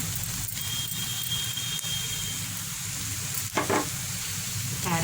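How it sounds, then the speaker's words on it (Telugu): Spices frying in hot oil for raw papaya pulusu, giving a steady close sizzle and crackle with a few brief stirring scrapes and spatters. "ఇది కూడా కొంచెం వేయించుకోవాలి"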